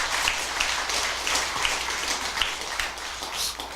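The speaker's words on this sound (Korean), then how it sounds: "박수 소리가 몇 사람은 억지로 치는 박수 같다." An audience at a Buddhist Dharma lecture in a hall claps steadily for nearly four seconds, a dense, moderately loud patter of many hands that holds fairly even throughout, with no speech over it.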